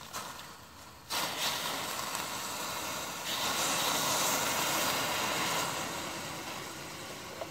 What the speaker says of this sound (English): right now I'm not touching that thing with it steaming like that